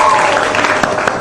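A morning talk show studio audience finishes clapping, a brief burst of applause fading out as a voice talks over it.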